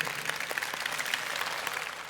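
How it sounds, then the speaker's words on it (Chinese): Audience at a Philippine company event applauds steadily with dense, even clapping throughout, moderately distant and without speech over it. "要不要给公司一点掌声？"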